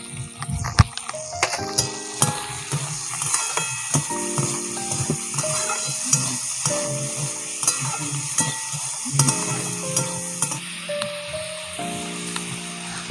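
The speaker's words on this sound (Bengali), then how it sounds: "বন্ধুরা মাংসের ক্ষেত্রে আমরা একটু ভালো করে ভেজে নেব।" Meat frying with sliced onions in a pan for Indian-style chow mein, with a light sizzle under repeated clacks and scrapes of a spatula stirring in an uneven rhythm.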